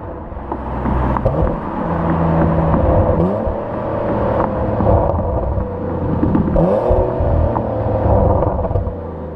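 A 2015 Porsche Macan Turbo's engine drones and revs while driving, the pitch rising and falling through gear changes with short throttle blips on downshifts, heard close from inside over a steady low rumble.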